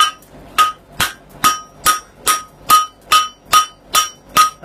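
Blacksmith hammer striking a metal block on an anvil while fullering a horseshoe, eleven sharp ringing clangs in an even, steady rhythm, close and loud with short decays between blows.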